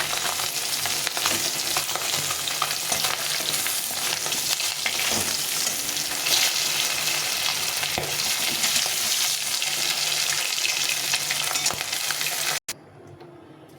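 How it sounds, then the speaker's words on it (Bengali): Steady loud sizzling of potatoes frying in hot oil with chillies, cumin and bay leaves, continuous for several seconds, ending abruptly with a brief clatter. "তেলটা গরম হয়ে গেছে লঙ্কা জিরে তেজপাতা দিয়ে প্রথমে আলু"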